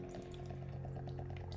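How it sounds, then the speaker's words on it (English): Mountain Candy beer poured into a glass, a steady continuous liquid stream over a faint constant hum, with no talking. "I'm going to pour myself a cold one."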